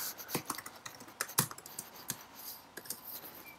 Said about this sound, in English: I'll just type my name in.